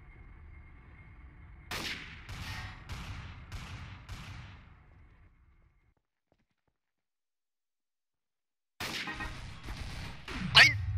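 A rapid run of sharp gunshot bursts in the game Trouble in Terrorist Town, then a silent gap, then more loud shots and impacts, with faint German-speaking voices underneath.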